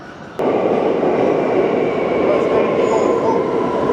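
A New York City subway train at a station, heard as a loud, steady rumble of wheels and cars that fills the platform, with faint squealing tones above it and no talk.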